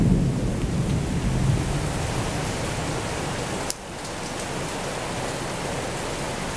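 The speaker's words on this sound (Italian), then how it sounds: "Sta piovendo moltissimo" Heavy spring thunderstorm on a balcony in Quartu Sant'Elena, with a steady dense roar of rain and thunder rumbling low throughout, a brief sharp crack near the middle, loud and continuous.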